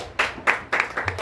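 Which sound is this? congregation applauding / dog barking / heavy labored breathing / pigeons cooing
congregation applauding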